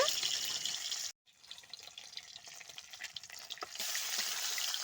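Pieces of rohu fish fry in hot mustard oil in a pan, making a loud crackling sizzle that drops out sharply for a moment, then returns as scattered spitting pops before swelling back to a full, steady sizzle.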